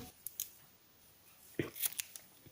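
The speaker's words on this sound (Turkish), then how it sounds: "nakoperlanta siyah ipimi şöyle belirli bir uzunlukta kesiyorum" Scissors snip black pearl cotton embroidery thread for an amigurumi doll, giving a faint quiet start and then a quick cluster of close, crisp cuts.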